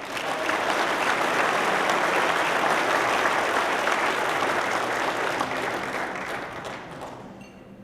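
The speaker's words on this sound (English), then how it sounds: "One more round of applause." Steady, full applause from a seated audience at a firefighter, police and EMS awards luncheon, many hands clapping at an even level for several seconds before tapering off near the end.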